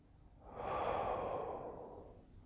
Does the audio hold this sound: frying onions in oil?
no